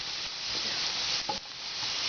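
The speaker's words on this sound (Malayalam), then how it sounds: "ബിരിയാണി ഗാർണിഷ് ചെയ്യുന്നതിന് ആവശ്യമായ സാധനങ്ങൾ നമ്മളിപ്പോൾ വറുത്തെടുക്കുന്നത്" Garnish ingredients for chicken biryani fry in hot oil, a constant close sizzle with a faint stir or shift of the pan midway, no voices over it.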